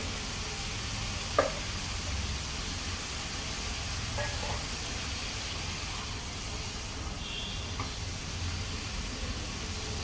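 A steady, low sizzle of 200 grams of chicken frying in a pan on high heat for spring roll filling, with a few faint clinks of stirring, continuous and fairly quiet throughout.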